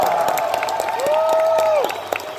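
Audience at a Halo convention panel in Orlando breaks into applause and cheering, a dense wash of clapping with a sustained whoop rising over it, loud and close, tapering toward the end.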